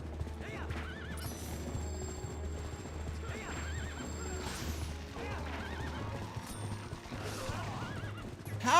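A horse in the Twilight Princess video game whinnies repeatedly over a steady, rhythmic clip-clop of hooves, with clanking game effects and a sharp burst near the end.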